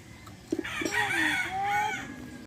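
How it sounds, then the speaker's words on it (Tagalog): A rooster crows once nearby, opening with a couple of short clucks and then a long, wavering cock-a-doodle-doo against low background noise. "Itong manok."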